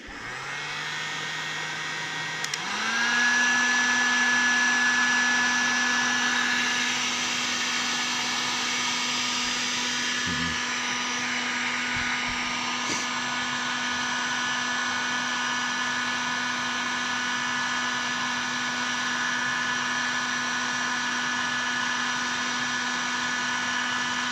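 A heat gun blows steadily and loudly at close range while bending metal parts for a jetty fishing rod holder, its pitch stepping up after a few seconds and then holding a continuous whoosh with a few small clicks.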